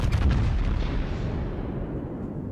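Battleship main guns firing in World of Warships, a deep booming blast that rolls out into a long rumbling decay, loud and close with no talking.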